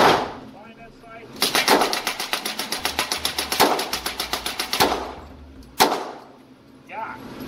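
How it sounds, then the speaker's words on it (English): A suppressed M3 grease gun in .45 caliber fires a long full-auto burst of rapid, evenly spaced shots, followed by a single shot and brief speech before and after. "Grease gun, open bolt."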